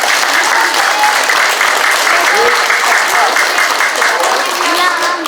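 A school audience applauds a student theatre play, loud sustained clapping from many hands with children's voices and cheers mixed in throughout.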